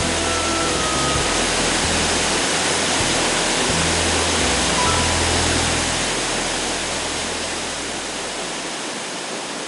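Naydong Waterfall in the Dongyan Mountain forest roars close by, a loud, steady broadband rush of falling water that holds throughout and eases slightly toward the end.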